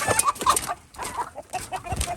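A panicked chicken clucks in rapid, agitated bursts near a coop door, with a couple of brief pauses between the loud, close calls.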